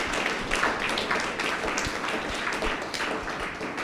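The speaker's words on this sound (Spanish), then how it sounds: "Un aplauso para el grupo de las maestras." A church congregation claps for a group of women teachers at a Sunday service, giving a dense, even patter of hands throughout with no voices over it.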